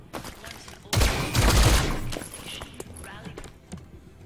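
A burst of gunfire in the XCOM: Chimera Squad video game erupts suddenly and loud, a dense rattling volley with heavy low thumps lasting about a second, then trailing into quieter game sounds and clatter.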